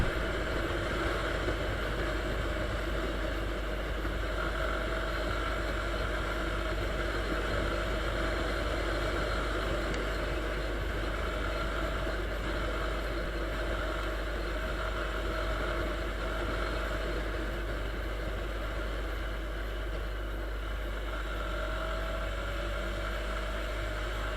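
Viper 150 Chinese motorcycle at full throttle on a country road, its engine droning at a steady high pitch throughout with wind rush and a constant low rumble, no talk.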